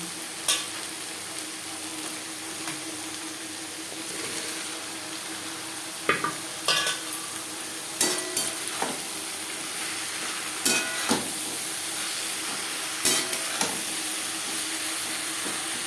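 Cut eggplant pieces frying in fish oil for a Bengali chorchori, a constant close sizzle and hiss punctuated by scattered sharp spatula clacks and scrapes against the pan.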